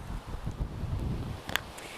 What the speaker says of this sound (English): today we're outside again and it's super windy